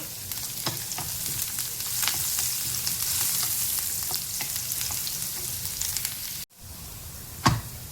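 Finely chopped garlic cloves with curry leaves sizzle in hot oil for a Konkani jackfruit dish, a dense continuous hiss with small pops, then a brief cut and one sharp crackle near the end.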